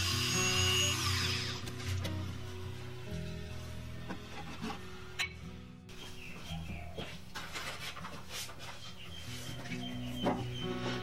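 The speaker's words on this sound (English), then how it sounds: "ended up just grinding the little bit that was sticking out down with a Dremel" A Dremel rotary tool grinding down protruding screw ends on the back of a wooden record player cabinet, a continuous buzzing whine with scratchy rasping bursts, close and steady.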